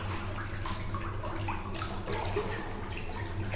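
Swimming through water in the Backrooms pool rooms video game, with continuous close sloshing and splashing over a low steady hum.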